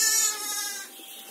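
A Cameroon sheep lamb gives one short, close, clear bleat that trails off quickly, with no talking.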